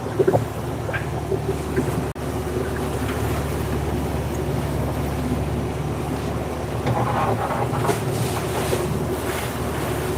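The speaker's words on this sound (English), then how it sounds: "we almost had a wave crash over the side. I heard it." Ocean waves wash against a sailboat at sea between Vanuatu and Guadalcanal, a loud continuous rush of water and wind noise buffeting the microphone, swelling near the end.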